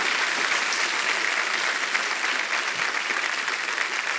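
On the KBC India quiz show set, the audience keeps clapping for a contestant, a sustained, loud wash of many hands at an even level from start to end, with no talking over it.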